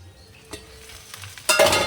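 Okra frying in a pan with salt and turmeric, a quiet sizzle that swells into a loud, bright crackle near the end, with a few soft clinks beforehand.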